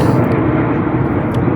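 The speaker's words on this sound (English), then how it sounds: "everyone can hear an airplane right now" A distant airplane passes overhead as a low, steady, broad rumble that fills the whole moment without rising or fading, with no voices.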